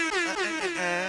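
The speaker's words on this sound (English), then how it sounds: "It was the air horn" A loud, brassy air horn blares in a single sustained blast with a slightly wavering pitch.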